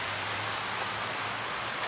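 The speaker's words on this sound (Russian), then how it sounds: "У нас лежит снег, но при этом дождь." Steady rain pattering down during a winter walk with snow lying on the ground, a continuous close hiss with no talk over it.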